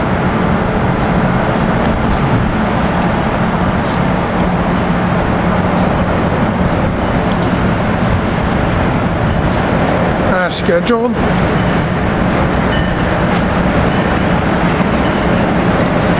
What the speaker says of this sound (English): Here we got a slow train 2253 coming in.